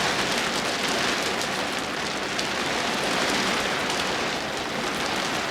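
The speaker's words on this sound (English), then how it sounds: "Oh, listen to that rain." Steady, heavy rain pouring down on a surface, a dense continuous hiss with no pauses and no voices.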